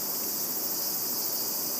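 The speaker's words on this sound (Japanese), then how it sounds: "セミがね、夜の11時半なのに鳴いてるんですよ。" Cicadas droning at night in Esaka Park, a dense, steady high-pitched buzz filling the air without pause.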